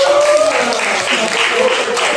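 A classroom group claps steadily in a dense patter, fairly loud and close, with a voice briefly audible at the start.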